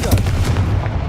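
A Confringo fire spell blasts off in Hogwarts Legacy, a short, loud, booming burst with a couple of punchy thumps over about a second.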